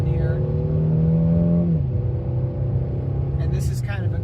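A 2016 Mercedes-Benz E350 luxury sedan pulls away on a curvy uphill road, its engine droning steadily and then shifting down in pitch under constant road rumble, with a voice speaking briefly near the end.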